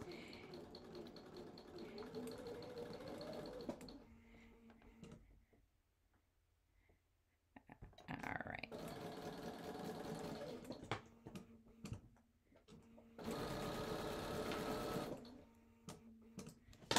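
A sewing machine stitches quilt pieces for a Drunkard's Path block. Several runs of close whirring stitching are broken by quiet pauses between them.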